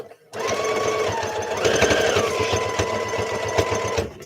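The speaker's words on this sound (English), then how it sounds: "So it goes like does a back and forth stitch. So it goes forward, it goes back, it goes forward, and it goes back." A domestic sewing machine runs steadily, stitching a back-and-forth triple stitch with a brief shift in motor pitch partway through, close and continuous, no voices over it.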